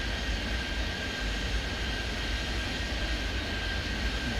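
Steady, loud jet engine roar of an aircraft taking off in the airport-control game Airport Madness 3D, set at Boston. The roar is continuous and heard alone, with no talk.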